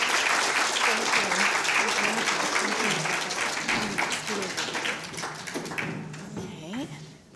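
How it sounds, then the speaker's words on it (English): An audience claps loudly after a keynote presentation on research, conservation and curation, a dense round of applause that gradually thins and fades toward the end. "let's have a round of applause"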